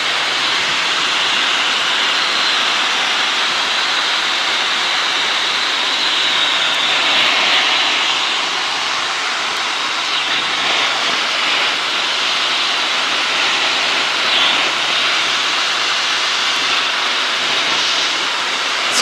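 Steady loud whine and rushing roar of a helicopter cabin in flight at about 100 mph, unbroken and droning throughout.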